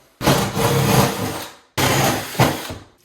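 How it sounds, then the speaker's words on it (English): A drill with a 1-inch bit bores through the plywood of a vanity cabinet for water lines, giving two loud, close bursts of grinding whine, each lasting over a second, separated by a short pause. "let me get a 1-inch drill bit and I'll drill the water lines out."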